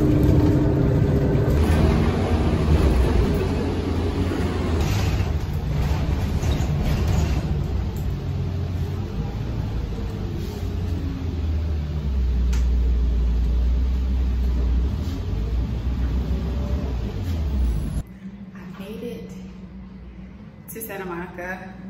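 Steady engine rumble and road noise ride inside a Los Angeles public bus on the 734 route, with voices in the background, dropping to a quieter hum near the end.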